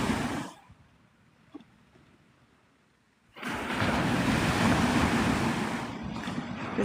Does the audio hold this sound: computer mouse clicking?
no